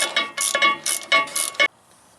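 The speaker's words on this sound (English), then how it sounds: "Then I will proceed to finish tightening them up." A ratchet clicks in quick bursts while tightening bolts on the rear transmission of a 2008 Ford Ranger, loud and close, several short runs of rapid clicks and then quiet.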